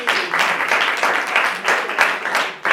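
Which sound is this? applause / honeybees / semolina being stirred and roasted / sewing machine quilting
applause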